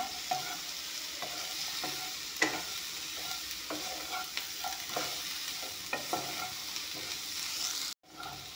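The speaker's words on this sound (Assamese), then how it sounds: "অলপমান আলু ভাত কেৰেলাখিনি ধুনীয়াকৈ ভাজি ল'ম।" Potatoes and bitter gourd fry in a pan with a steady hiss, broken by repeated scraping clicks as the pieces are stirred. A brief knock sounds near the end, and no one speaks.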